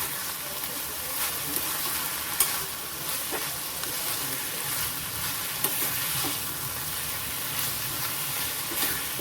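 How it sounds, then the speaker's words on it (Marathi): Red amaranth greens with dal and fresh grated coconut fry in a pan with a steady loud sizzle, while a spoon stirs them in a few quiet scrapes scattered throughout; no voices. "छान ते सगळं आपण हलवून घेऊया"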